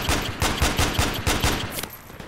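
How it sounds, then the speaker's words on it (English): Rapid automatic gunfire in the video game Project Reality: a loud, close burst of about a dozen evenly spaced shots that stops abruptly, followed by a short quieter tail. "They're shooting at me from the frickin' southeast"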